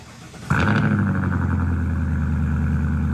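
A 2022 Ford F-250 Super Duty with the Godzilla 7.3 V8 fires up after a brief quiet moment, then settles into a steady, loud, deep idle rumble that continues close by.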